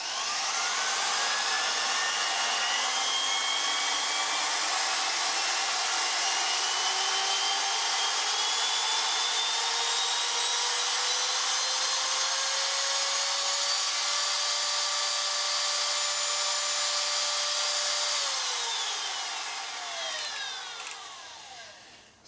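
A Katsu trim router whines steadily as it steps through speeds 1 to 6, its pitch climbing in stages over about twenty seconds before spinning down at the end, loud and close with no talk.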